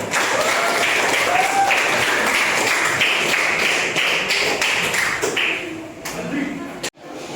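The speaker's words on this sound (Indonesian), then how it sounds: "Tepuk tangan untuk kita semua." Pupils in a classroom give a burst of clapping with scattered taps and thumps, loud at first and then tapering off, with voices mixed in.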